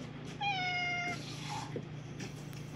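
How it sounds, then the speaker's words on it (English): A cat meows once inside an RV on a road trip, a clear, drawn-out cry heard close by against a low, steady hum, followed by quieter shuffling. "kitties"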